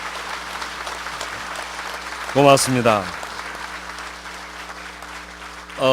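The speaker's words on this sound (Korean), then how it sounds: "큰 박수를 부탁드립니다" Audience applause at a book launch ceremony for Park Geun-hye's autobiography forms a steady wash of clapping under a low hum, while a voice briefly speaks partway through.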